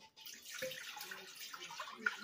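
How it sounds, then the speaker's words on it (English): Water, four cups of it, pouring into a crock pot at the start of cooking baby lima beans, a steady splashing rush that runs for the whole stretch at moderate loudness with no talking. "I'm going to put in 4 cups of water"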